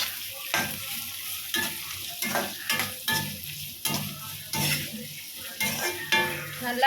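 Onions and green chilies fry in hot oil with a constant sizzle, while a spoon stirs and scrapes the pan in repeated strokes, close and clear, no talking.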